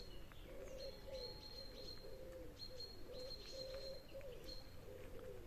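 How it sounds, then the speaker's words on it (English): Birds singing and pigeons cooing beside a Roman ford in Britain: repeated soft low coos carry through a faint outdoor background while high chirps and tweets come and go, all fairly distant and quiet. "listen, all the bird sounds here"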